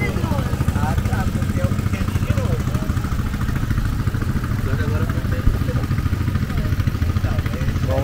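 Boat motor running steadily on an Amazon river, a continuous mid-pitched engine drone with clattering texture, loud and close throughout, with a person talking over it.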